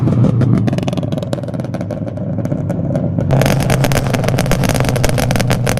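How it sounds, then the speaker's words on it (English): Subaru BRZ exhaust crackling and popping, a dense rapid string of loud pops over a rough idling engine that grows busier midway, with no talk. "we all know that this rice car just pops like anything right now"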